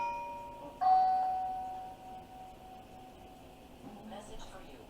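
A doorbell in a candy shop kitchen rings a single ding-dong chime, clear and ringing out slowly, followed by faint voices in the room.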